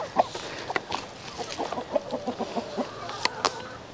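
Several backyard chickens cluck and murmur up close, a busy stream of short overlapping clucks and a few sharper squawks over quiet background.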